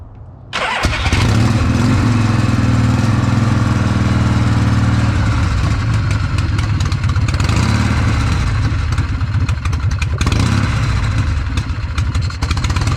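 A 1979 Harley-Davidson Shovelhead motorcycle engine catches after a brief crank and settles into a loud, rough, continuous idle close by, with a deep rumble that holds steady throughout and no speech.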